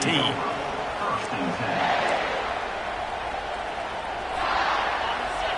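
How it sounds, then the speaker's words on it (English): A football stadium crowd cheers and roars in a dense, continuous wash of noise, swelling in a few spots, while a commentator talks over it. "This crowd trying to show them what it's going to be like all day in this house."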